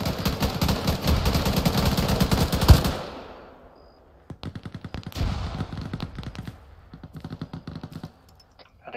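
Video game battle gunfire: dense, loud automatic bursts for about three seconds, then a pause and sparser rattling volleys mixed with keyboard-like clicking.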